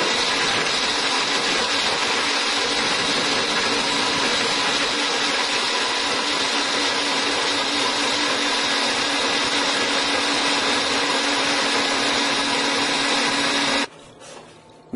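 A food processor purees vegan cheese ingredients in a steady, loud motor whir that runs without a break for about fourteen seconds, then cuts off abruptly and leaves quiet.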